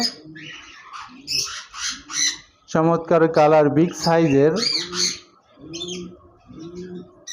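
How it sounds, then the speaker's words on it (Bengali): A pair of golden finches in a cage chirp and call in short high bursts, with someone talking loudly over them through most of the stretch. "এখানে দেখতে পাচ্ছেন একজোড়া গোল্ডেন ফিন্স পাখি রয়েছে"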